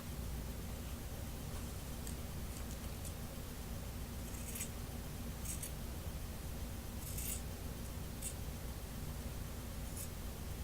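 Scissors snip through fabric for the upper half of a cat cosplay top, a soft steady rasp of blades near and alone, with a few brighter crisp snips standing out.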